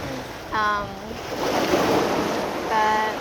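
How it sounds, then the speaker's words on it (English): Wind gusts buffet the microphone at a seaside spot, with surf rolling in underneath; a broad roar swells in the middle, and brief bird-like or voice-like tonal bursts appear near the start and end. "the wind is picking up"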